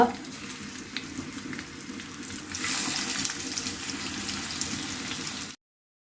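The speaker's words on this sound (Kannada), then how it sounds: "ಈ ತೇಡೆ ಮೀನನ್ನು ಈಗ ಫ್ರೈ ಮಾಡುವ" Catfish sizzles in coconut oil with curry leaves in a clay pan for Mangalore-style pulimunchi, a steady close crackling hiss that swells louder partway through, then stops abruptly.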